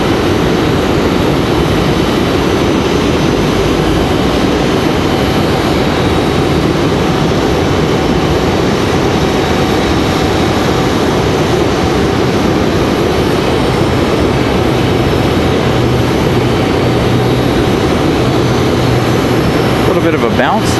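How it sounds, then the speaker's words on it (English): An Airbus A321 airliner landing at Raleigh-Durham airport, a loud continuous jet roar and rushing wind noise sustained throughout, with a voice talking over it. "Bit of a bounce there on the nose of this A321."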